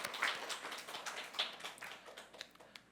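Scattered hand claps from a church congregation at a young adults' worship service, quiet and somewhat distant, irregular and thin rather than a full roaring applause.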